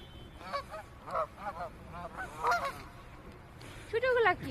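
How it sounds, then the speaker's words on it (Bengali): Wild ducks call at a large lake in a string of honking, quacking bursts, some near and loud, others fainter, with brief gaps between them and no talk. "হাঁসের ডাকগুলি ভালো লাগছে"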